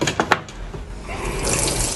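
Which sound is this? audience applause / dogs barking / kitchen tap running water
kitchen tap running water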